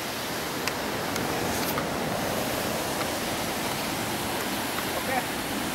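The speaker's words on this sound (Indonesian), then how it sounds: "Oke, di situ ada air terjunnya" Waterfall at Jogan Beach, a steady broadband rush of falling water mixed with nearby surf, constant and fairly loud throughout with no distinct breaks.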